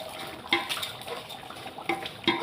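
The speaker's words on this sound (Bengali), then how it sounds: "ভালো করে একটু ভেজে নেবেন ঘি দিয়ে" Rice being fried in ghee in a pot for Basanti pulao, stirred with a spoon that scrapes and clinks against the metal several times over a light background hiss.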